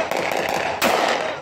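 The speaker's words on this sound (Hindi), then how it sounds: "कहीं छतों पर हल्लागुल्ला और आतिशबाजी तो कहीं गोलियों की तड़तड़ाहट होती रही।" Firecrackers and fireworks go off at night from rooftops during the Basant kite festival in Faisalabad, a dense crackling rumble with one sharp, loud bang partway through.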